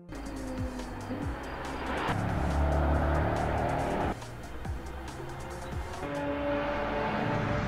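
A Bugatti Devo supercar with an 8.0-liter quad-turbo W16 engine roars loudly and steadily, its engine note rising in pitch across several gear changes with no talk over it.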